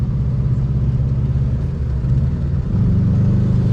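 A high-mileage Subaru WRX Bugeye, about 300,000 miles, pulls hard under throttle. Its engine gives a loud, steady, low rumble that rises in pitch and strengthens near the end as it revs harder.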